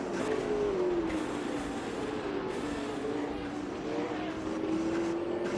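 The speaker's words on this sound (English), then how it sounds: "It seems like your car's engine is revving up and ready to unleash its full potential on the track." A race car engine on a track revs continuously at a moderate, somewhat distant level, its pitch wavering up and down through the clip, alone without speech.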